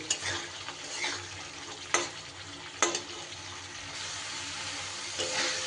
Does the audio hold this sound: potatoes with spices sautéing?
yes